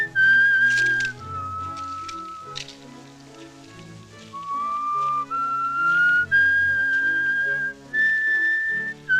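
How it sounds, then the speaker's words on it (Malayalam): A man alone in a prison cell whistles a clear, wavering melody for several seconds, holding long notes with short pauses between phrases, over a soft sustained musical backing. "ചൂളം അടിക്കുന്നേ?"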